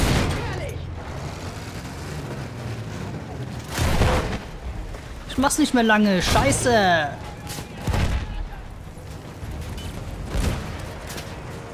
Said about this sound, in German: aber diese Schüsse sind gefährlich